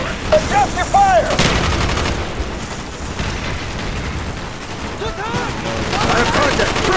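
Rapid gunfire bursts and shots in Call of Duty Black Ops, with full-auto weapons, loud and close, crackling repeatedly across the clip alongside distant booms and chirping game effects.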